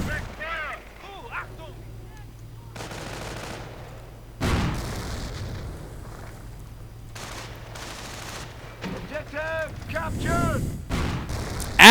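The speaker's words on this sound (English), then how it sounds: "already taking a full broadside from the tank destroyers" Tank destroyer cannon fire and gunfire in a strategy video game: heavy booming shots and crackling volleys come in bursts with whistling shell sounds, loud and layered, while a commentator talks over the battle.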